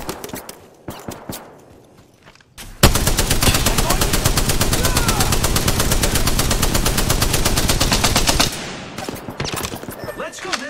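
Enemy gunfire in the video game Apex Legends breaks out as a loud, sustained burst of rapid automatic shots lasting several seconds, with quieter scattered shots and movement before and after.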